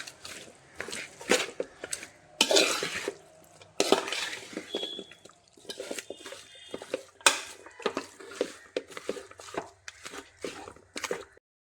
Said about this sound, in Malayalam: സവാളയും കൂടി ചേർത്തിട്ട് നമുക്കിതൊന്ന് നന്നായിട്ട് ഇളക്കി കൊടുക്കാം.